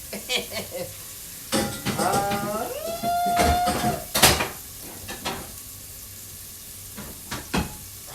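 Pork and carrots sizzle and get stirred in a pan, with scraping utensil clatter and a clang of a lid amid the steady frying hiss.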